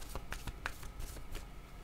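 Tarot cards are shuffled close up, a quick run of soft riffling flicks and taps that is quiet and brief, with no voices.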